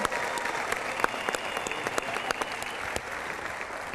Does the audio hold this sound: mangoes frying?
no